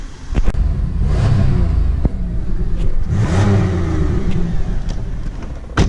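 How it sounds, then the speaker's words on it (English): A GTP Special Edition car's exhaust growls deeply as the engine revs up twice, rising and falling, with a few sharp clicks nearby. "The growl from this thing's exhaust is sweet"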